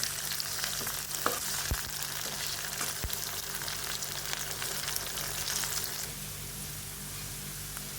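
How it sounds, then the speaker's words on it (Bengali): Small shrimp frying in a pan with onion, garlic and green chilli, a steady crackling sizzle with stirring clinks that eases slightly toward the end. "এখন আমি এর মধ্যে কিছু পরিমাণ ছোট ছোট চিংড়ি মাছ দিয়ে দিচ্ছি এখন এটাকে ভালোভাবে ভেজে নিতে হবে"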